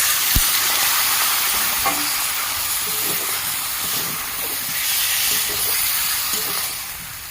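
Water poured into a hot pan of frying fish curry with summer vegetables raises a loud, steady steamy sizzle and hiss that holds for several seconds, with faint stirring knocks and no voices.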